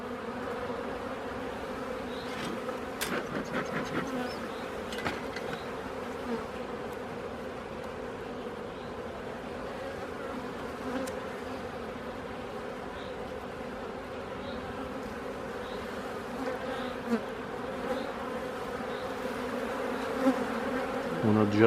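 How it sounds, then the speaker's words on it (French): A steady, dense buzz of many honeybees in a hive during a spring inspection fills the whole stretch, close and continuous, with a few brief knocks near the start. "Il y a des abeilles."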